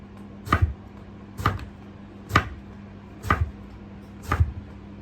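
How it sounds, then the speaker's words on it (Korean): Knife chopping through halved eggplant on a cutting board, five distinct close thuds spaced about a second apart with a steady low hum underneath. "반으로 썰어서 얇게 썰어주시면 돼요"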